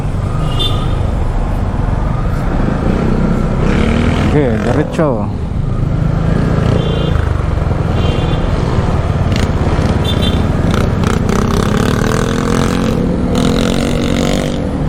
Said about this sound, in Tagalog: medyo traffic talaga dito pag uh